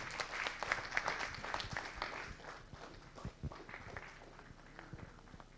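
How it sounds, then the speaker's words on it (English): Moderate audience applause in a conference hall at the CSI Kerala Chapter Day as a memento is presented, steady scattered clapping that gradually thins out, heard from a little distance. "Let's have a loud applause for him."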